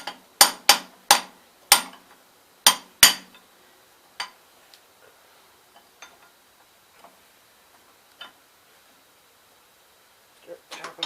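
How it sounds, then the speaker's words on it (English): A small ball peen hammer taps a planetary part down into a 1967 Gravely 430 transmission: a quick series of sharp metallic strikes at first, then sparser, lighter taps, and a final short cluster. "I'm going to take my little ball peen hammer I got here and just"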